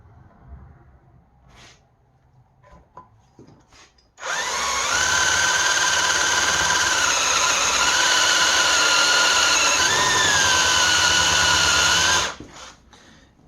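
Cutter machining valve guide chamfers in V8 cylinder heads, a loud, steady high-pitched whine that starts abruptly, holds with slight pitch wavers for about eight seconds, then stops, with faint clicks and handling noise before it.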